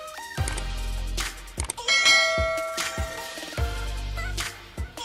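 A ringing bell sound effect gives several loud, bright metallic strikes in quick succession, each leaving a long shimmering decay, with no talking over it.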